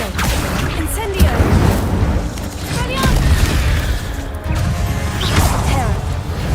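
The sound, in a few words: Incendio fire spell cast, from video game Hogwarts Legacy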